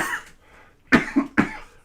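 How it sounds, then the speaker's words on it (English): A few coughs from one person indoors: a faint throat sound first, then two sharp, close coughs in quick succession, with no talking. "There's the first cough."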